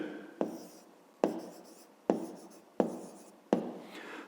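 Pen strokes on paper while an answer is written out by hand in a maths exercise, five distinct scratchy bursts each with a sharp onset fading away, close and quiet with no talk.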